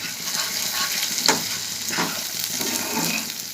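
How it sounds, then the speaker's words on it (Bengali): Spices fried in oil with a little sugar and chili powder, stirred in a pan for a raw banana dish, giving a steady moderate sizzle with a couple of soft spatula scrapes and no speech. "তারপরে ভালো করে কষিয়ে নিয়ে তারপরে অল্প জল দেবো"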